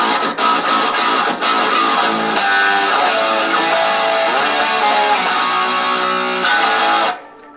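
Telecaster electric guitar playing a chordal riff through a miked amplifier, full and steady for about seven seconds before cutting off abruptly.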